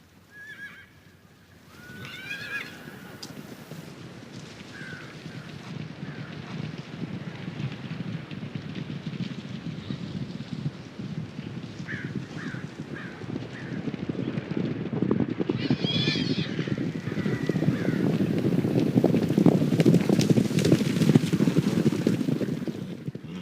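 A horse whinnies a few times during a therapeutic ride, the calls short and mid-distance over a steady outdoor rumble, with soft hoof and movement noise building toward the end and faint voices now and then.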